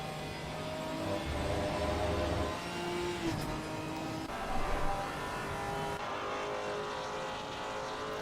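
A Ginetta GT race car in Assetto Corsa Competizione at Monza, heard from outside, engine revving and shifting at moderate distance, swelling briefly louder midway before settling into a steady drone.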